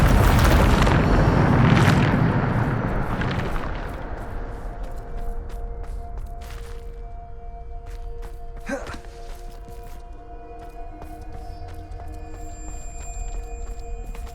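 A Bombarda explosion spell in Hogwarts Legacy goes off with a loud, close boom that decays into a rumbling tail, followed by quieter game ambience with faint steady tones and a few light clicks.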